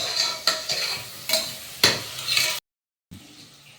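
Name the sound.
onion and green chilies sautéing in oil and ghee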